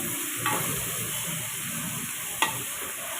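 Half a kilo of broad beans is stirred into hot oil in a pan, giving a continuous close sizzle with two crisp spatula scrapes, one early and one near the end, and no talking.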